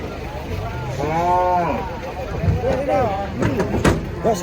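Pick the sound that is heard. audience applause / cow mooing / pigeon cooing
cow mooing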